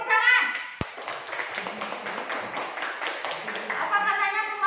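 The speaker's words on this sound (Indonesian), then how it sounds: "Oke, tepuk tangan." Students in an Islamic religious education classroom clap together after a group presentation, a sharp tap opening a run of scattered, uneven claps mixed with children's voices chattering throughout.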